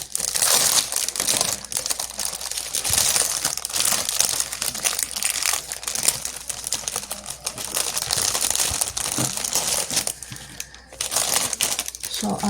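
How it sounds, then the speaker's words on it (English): Plastic packaging crinkles and crumples close by in dense, continuous bursts, with soft handling noises between. "let me stop crinkling"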